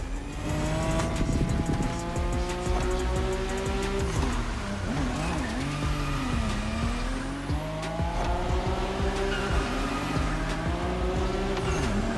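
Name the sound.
car drifting with tire squeal in video game The Crew Motorfest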